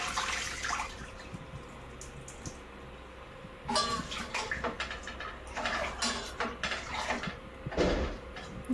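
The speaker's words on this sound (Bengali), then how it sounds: "এবার চালটা ধুয়ে দিয়ে দেব।" Rice is washed in a pot in a home kitchen, water sloshing and splashing in irregular bursts with grains rattling against the metal, close and fairly loud over a faint background hum.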